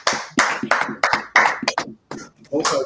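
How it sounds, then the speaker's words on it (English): An audience at a religious street teaching claps in quick bursts, some in rhythmic runs, close and loud, with voices mixed in among the claps. "Most High Christ, clap it up"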